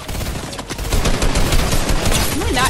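Dense bursts of video game gunfire in Fortnite, crackling shots overlapping in a busy, sustained stream with scattered in-game effects layered on top.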